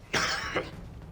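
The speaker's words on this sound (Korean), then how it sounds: "지금 누가 기침 소리를 내었어?" A single sharp cough rings out in a hushed royal court scene from a Korean history drama, loud and close, lasting about half a second before fading into quiet room tone.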